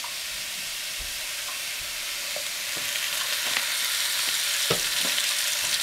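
Cabbage frying in cooking oil in a pan, with a loud, continuous sizzle and crackle that builds slightly and carries occasional sharper pops, heard alone with no voices.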